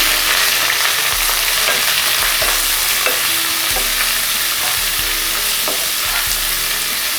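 Onions frying in a pan with curry leaves for a Tamil vada curry, a steady loud sizzle running throughout with repeated scraping stirs of a spoon against the pan.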